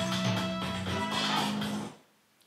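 A looped music track played back in the Reaper audio editor runs at steady full level for about two seconds, then cuts off abruptly into near silence.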